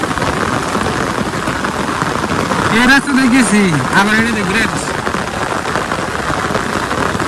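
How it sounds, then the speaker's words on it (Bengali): Heavy rain pours steadily on a rural road beside paddy fields, a dense wash of noise throughout, with someone talking over it. "এই যে দেখেন বৃষ্টি খুব"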